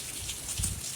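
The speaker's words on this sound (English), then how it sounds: "heavy rain." Heavy rain pours in a steady hiss during Hurricane Dorian, with soft low thumps from high wind gusts or drops striking nearby surfaces, fairly faint overall.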